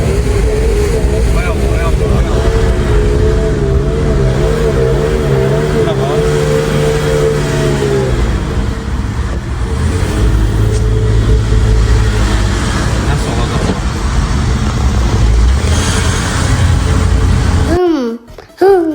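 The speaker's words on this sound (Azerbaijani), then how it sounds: "Burada da maşın yenə başlayır" A classic Mercedes drives along the road with a continuous engine drone and wind rush, a voice talking over it throughout, before sharp noises at the very end.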